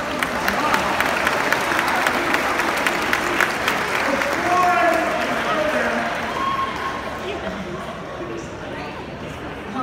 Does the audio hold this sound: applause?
yes